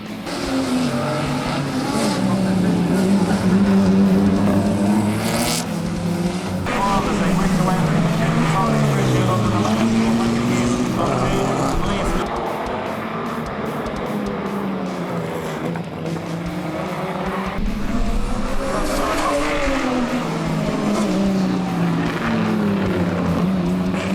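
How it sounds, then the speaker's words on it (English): A Mk1 Ford Escort and an R32 Nissan Skyline GTR race at the Waimate 50 street circuit, engines roaring loudly and continuously with rising and falling pitch as gears change and the cars sweep past, under a commentator's voice. "The Mk1 Escort fought back for the lead, but the GTR was still in the hunt."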